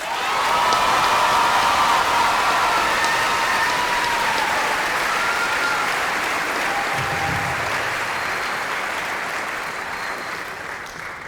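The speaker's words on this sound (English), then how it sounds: "Let's give another round of applause to our valedictorians" A high school commencement crowd applauds the class of 2022 valedictorians with loud, sustained, rain-like clapping and scattered cheers, fading gradually over about eleven seconds.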